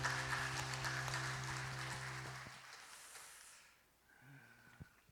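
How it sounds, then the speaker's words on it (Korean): Church congregation applauding during a service, a broad wash of clapping for about two and a half seconds over a sustained organ-like tone, then tapering off into quiet room noise. "우리 하나님 앞에 영광의 박수를 드리겠습니다"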